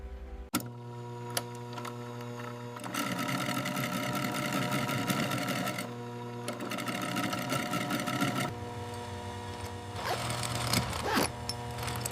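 An industrial sewing machine stitches leather panels of a luxury duffel bag in a horn-and-leather workshop, running in steady bursts of rapid mechanical stitching with brief pauses between, close and clear.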